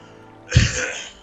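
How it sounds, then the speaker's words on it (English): A single sharp cough lands right into a close microphone, loud and brief, rising out of near silence and fading over half a second. "Wow, I coughed right into the mic."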